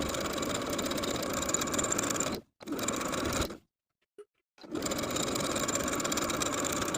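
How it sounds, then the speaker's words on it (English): A sewing machine edge-stitches a garment hem with a loud, steady, rapid whirring hum up close. It pauses twice for short breaks, then runs again with no talking. "Now I'm going to edge stitch close to the raw edge on the inside all the way around."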